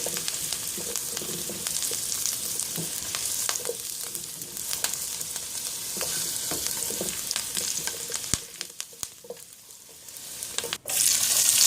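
Oil sizzles and crackles in a frying pan just after potatoes were fried, heating for a cauliflower and egg curry; a steady close hiss with occasional stirring scrapes, no voices.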